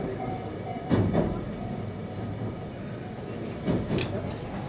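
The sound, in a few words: Ainokaze Toyama Railway train running on rails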